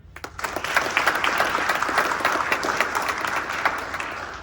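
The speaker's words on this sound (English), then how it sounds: "So round of applause to him" Audience applause after a speaker's introduction, building quickly into a dense, steady burst of clapping that holds at a moderate level to the end.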